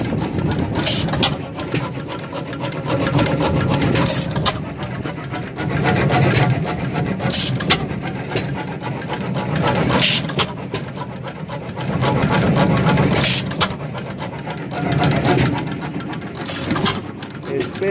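Old heavy stationary engine running at an outdoor engine show, a noisy rhythmic chugging that swells and fades in regular cycles, with people talking over it.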